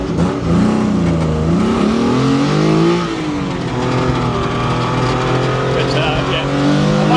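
A Lancia Stratos on skinny road tyres lapping the Castle Combe circuit, its engine loud and close from inside, revving and pulling steadily with shifting pitch throughout, with voices talking over it.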